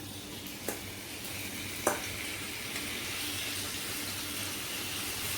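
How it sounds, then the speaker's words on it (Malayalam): Marinated prawns frying in hot oil for a Kerala-style prawn roast, giving a steady, even sizzle throughout with a couple of brief clicks near the start and no talking. "എണ്ണ ചൂടായിട്ടുണ്ട്. ഇതിലേക്ക് നമുക്ക് ചെമ്മീൻ ഇട്ട് കൊടുക്കാം."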